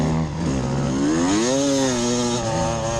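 A four-stroke dirt bike on a motocross track at a hare scramble passes close by, its engine buzzing loudly with rising and falling revs as it goes past.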